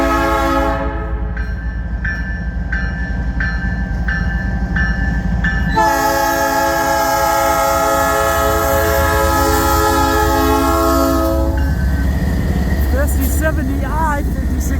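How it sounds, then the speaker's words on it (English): CN freight train S772, led by an ES44DC locomotive, rolls past at West Ladysmith with a loud, continuous rumble. Long sustained horn blasts ring out over the wheel and engine noise throughout. "The DPU equipped ES44 DC is back,"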